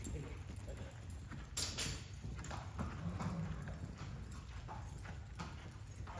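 Hooves of a ridden horse in show preparation clip-clop in a steady rhythm over a constant background rumble, moderately close but fairly quiet.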